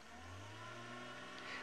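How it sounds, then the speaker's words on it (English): A Toyota Land Cruiser stuck on a safari track in the Maasai Mara, its engine revving in a steady low drone with a slight rise at the end, faint and distant in the background. "If you heard a car in the background, it was a Land Cruiser that got stuck."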